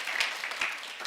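A church congregation at a pastors' seminar bursts into applause, a steady wash of clapping with a few louder swells, fairly close and continuous throughout.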